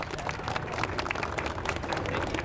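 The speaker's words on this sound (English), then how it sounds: "give him a big round of applause, everybody" Audience applause welcoming a firefighter from the San Diego Fire Rescue Department onto a stage, a dense, steady patter of many hands clapping throughout, fairly soft and even.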